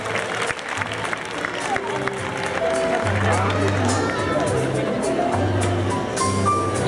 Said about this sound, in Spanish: Último y fuerte aplauso para todos estos alumnos de kinder